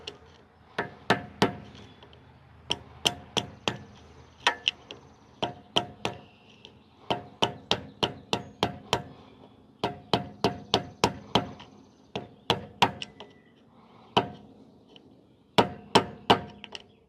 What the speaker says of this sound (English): I can just use a hammer and a big screwdriver to go the rest of the way.